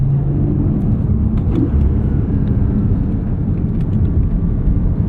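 A Porsche 718 Cayman GTS 4.0 engine howls continuously at high revs, a steady loud drone with rumbling low end and no voices.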